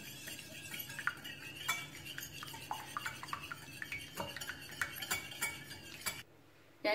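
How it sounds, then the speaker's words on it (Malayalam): A spoon beats eggs in a bowl, giving quick repeated metallic clinks and scraping taps close by, steady for several seconds before stopping abruptly, with no talking. "മുട്ട നമുക്കൊന്ന് ഇളക്കി കൊടുത്ത്"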